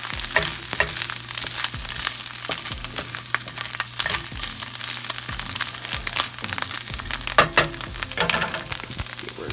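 Onions fry in a pan with a steady close sizzle, broken by repeated scraping and stirring strokes, plus an occasional louder clatter.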